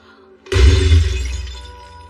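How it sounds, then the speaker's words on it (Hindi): A supposedly ancient egg breaks with one sudden crack that spreads into a bright, scattering shatter, like brittle shell bursting apart, then fades over about a second and a half. "टूट गया। भूत ने हमें नकली अंडा दिया।"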